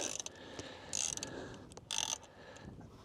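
A small hand ratchet works at a Loctite-locked bolt on a solar electric bike, giving a few short, quiet clicking bursts with pauses between them.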